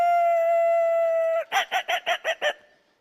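A voice imitates a dog, holding one long steady howling tone and then breaking into six quick, rhythmic yelping barks, loud and close with nothing else around it.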